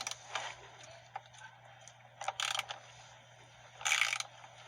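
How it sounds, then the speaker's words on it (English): Ratchet wrench tightening the steering wheel bolt on a 2006 Subaru Forester, heard as a few short bursts of rapid clicking with quiet pauses between, close and moderately loud over a steady low hum. "Now we're going to tighten the steering wheel down."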